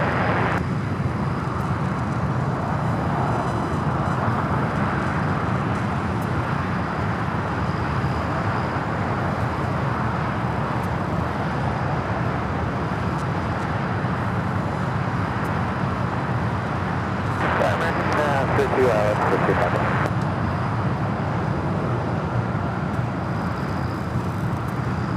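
An American Airlines jet on runway 25 Right at Los Angeles International Airport gives a steady, loud, broad engine roar that fills the whole stretch, with a brief harsher surge partway through and no talking.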